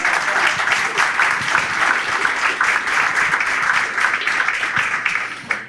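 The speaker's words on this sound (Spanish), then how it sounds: "Fuertes palmas, por favor, para Carla Campos Llerena." Sustained applause from an audience welcoming a speaker at a presentation launch event, steady and dense throughout with many hands clapping at once, fading slightly at the very end.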